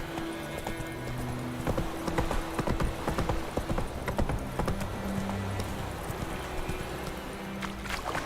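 Roach the horse gallops in The Witcher 3, a steady fast clip-clop of hooves held at an even level throughout, over a faint continuous background hum.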